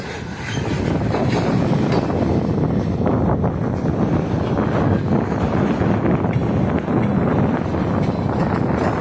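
Strong wind buffets the microphone in a continuous, loud, low roar outdoors on a chilly, rainy day beside a rail line where ALCO locomotives run.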